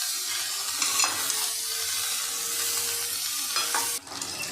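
A hilsa fish head mixed vegetable curry is stirred in a pan, a steady close sizzle with scraping strokes of the spoon, a louder stir near the end.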